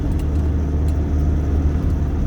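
Car engine at a steady drone while driving a winding mountain road toward Khao Lak Thai near Wang Thong, with the driver braking and working the clutch through left and right bends, loud and continuous with low rumble.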